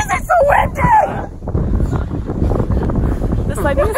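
Wind buffeting the microphone at a park in Philadelphia, a loud rumbling roar that fills most of the stretch, with a person talking over it at the start and end.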